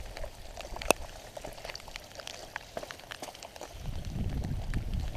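Steady patter of rain falling outdoors in the desert of South Mountain Park, Phoenix, with scattered drops striking a surface and a low rumble building toward the end.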